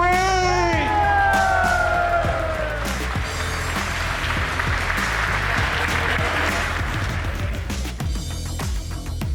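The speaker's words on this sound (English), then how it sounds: "give a grand round of applause for your winner of 2025 Mass Destruction, Sibling Rivalries!" Crowd at a Boston combat-robot competition applauds the winner, a broad roar of clapping and cheering under a loud electronic fanfare of sweeping tones and heavy low beats, continuing throughout.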